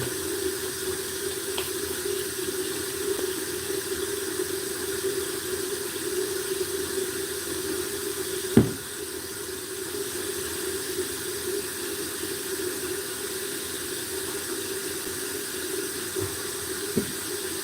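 Water runs steadily from a tap while hair is washed, a continuous close hiss and splash with one brief knock partway through and no talk.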